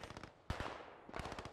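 Rapid MG42 machine-gun bursts rattle in the Post Scriptum game, giving fast, dense rounds in two close bursts split by a brief pause, with a heavy thump at the start of the second.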